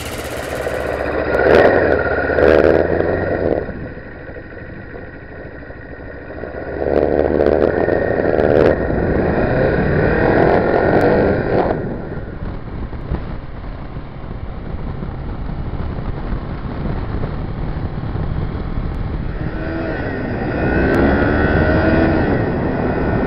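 Restored two-stroke Yamaha RZ350 motorcycle on a short ride: raspy, buzzing engine note surging louder and fading as the throttle opens and closes, with steady wind rush throughout and no speech.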